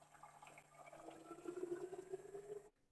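A Bear countertop water dispenser runs a half-liter into a water bottle, a soft close stream whose pitch rises gradually as the bottle fills, then stops abruptly near the end.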